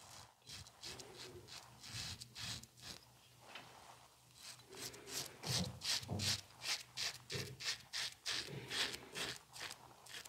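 Razor blade rasping across a face during a wet shave with an aggressive Henson safety razor, a steady run of short, scratchy strokes, close and fairly loud, with no talking.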